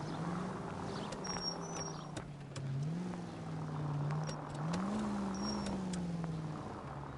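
A car in L.A. Noire drives with a steady engine drone that rises and falls in pitch as it accelerates, with faint background noises and short high tones, no talking.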